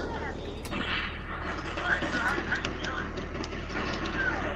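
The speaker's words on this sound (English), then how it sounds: "This dude throws a grenade and freaking kills me." Grenade explosion and gunfire in the APB Reloaded video game, a continuous rumbling barrage with a sharp crack early on and repeated bursts of shots layered over it, loud and dense.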